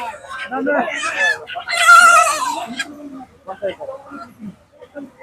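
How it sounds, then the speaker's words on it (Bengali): Local hens at a market cluck and squawk loudly at close range, with an agitated burst in the middle, while people talk nearby. "দেখি মুরগি বাইর করতেছে"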